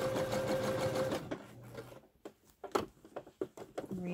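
A sewing machine stitches elastic onto the seam of ruched leggings, its motor running in a steady close whir for about a second before stopping, followed by soft fabric handling and light clicks.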